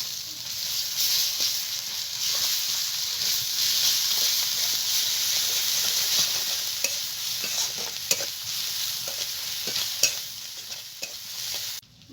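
A paste of ginger, garlic and green chilli sizzles in a pan of fried onions, a steady bright hiss with occasional stirring scrapes and clicks, close and continuous until it suddenly stops.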